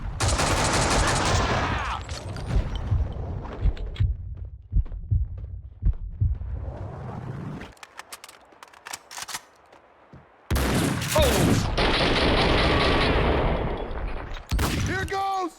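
Rapid bursts of gunfire in the video game Max Payne 2, loud and dense at the start and again near the end, with sharp isolated shots and a quieter stretch between.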